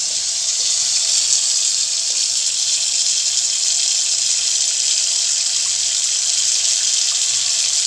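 Pressurized mains water from a hose rushes steadily down a freshly unclogged sink drain, a continuous loud hissing gush with no pauses.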